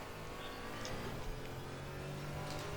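Race car engines in a GT4 racing video game during a sprint race chasing Porsches, a steady continuous drone of engines and tire whir held at an even level throughout.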